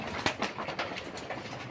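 A pigeon or dove, perched near the person calling it, gives a few soft, rhythmic coos over a short stretch, fairly close and moderately quiet, with no talk.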